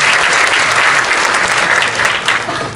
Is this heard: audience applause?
yes